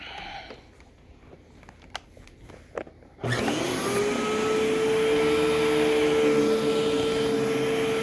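A World Vac canister vacuum with a GE power head starts up after a few quiet clicks and handling knocks, then runs as a loud, steady roar with a rising whine, close by.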